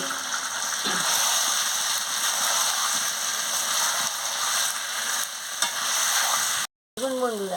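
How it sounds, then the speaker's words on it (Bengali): Steady loud sizzling as potatoes are stir-fried with spices for a chicken curry, with occasional scrapes of a spatula in the pan, continuous throughout, no speech. "এবার আমি আলুটা মশলার সঙ্গে দিয়ে দিচ্ছি দিয়ে ভালো করে কষিয়ে নিচ্ছি"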